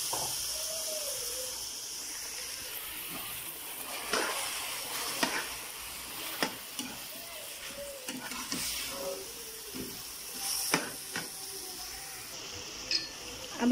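Minced meat sizzles in a pan for capsicum qeema, a steady frying hiss with occasional stirring scrapes and clicks, close and moderately quiet, with a voice speaking briefly.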